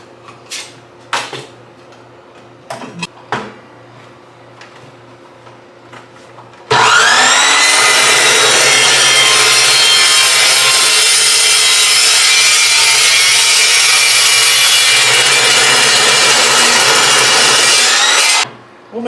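Sustained loud saw cut through 3-inch square scrap metal tube, starting abruptly after a few faint knocks and running steadily for about twelve seconds before stopping, with a bright, gritty rasp throughout.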